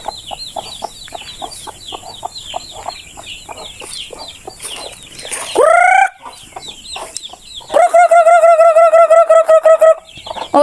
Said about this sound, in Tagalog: Pumasok na sa kusina ni mama yung mga manok.